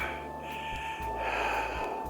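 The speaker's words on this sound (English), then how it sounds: "You hear my heavy breathing?" Heavy, labored breathing of a tired person walking across a desert floor, close and loud, with rhythmic drawn-out inhales and exhales over a steady windy background.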